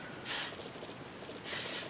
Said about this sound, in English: What I do is just spray some on the roots